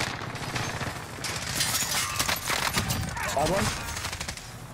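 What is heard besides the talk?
sniper gunfire in a video game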